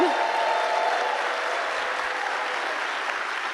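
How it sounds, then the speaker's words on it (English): Steady applause from an Ignite Seattle event audience, a dense wash of clapping that holds at an even level for a few seconds with no talking over it. "Let's give a round of applause to the volunteers who put on this show."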